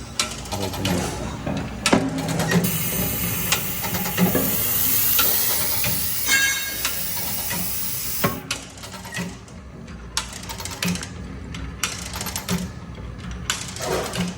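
A rebuilt Kook-e-King automatic cookie machine with a retrofitted pressure feed hopper runs with loud pneumatic hissing and rapid mechanical clatter. The hiss cuts off partway, leaving sparser knocks and clicks.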